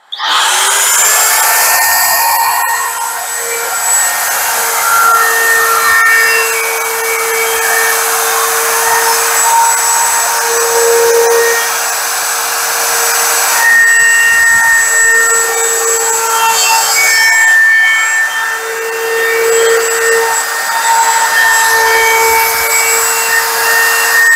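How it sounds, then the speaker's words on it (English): A router trims the edge of a clamped laminate countertop with a loud, continuous high whine. The steady power-tool roar runs without a break, and its pitch shifts slightly as the bit cuts along the edge. "I do have hearing protection because routers are pretty loud"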